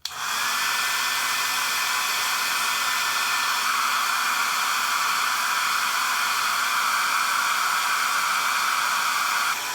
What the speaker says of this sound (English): Blow dryer works just fine.